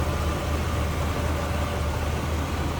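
A 1979 Oldsmobile Cutlass Supreme engine idles close by, a steady, even low rumble with a broad hiss over it and no change in pace.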